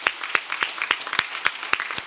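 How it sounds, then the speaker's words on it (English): A conference audience applauds a panel at the end of a meeting day; sparse, fairly rhythmic claps ring out at a steady pace, close and distinct, as if from a small group. "Let's give this panel a round of applause, right?"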